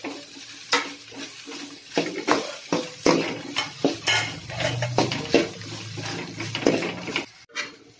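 Okra sautéing in a pan for pachadi, with repeated scraping and clinking of a spoon against metal over a steady sizzle, stirred in uneven bursts close up with no talking.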